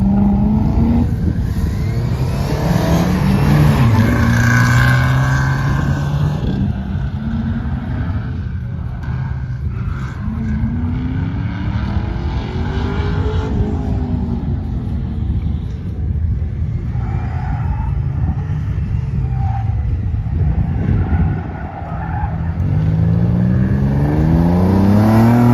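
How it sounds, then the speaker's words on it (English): A Porsche 944 race car drives fast around a track, its engine loud and close, repeatedly revving up and down through gear changes with rising and falling tones and a constant rumble. "Here's me driving with Mitchell filming on one of my faster runs"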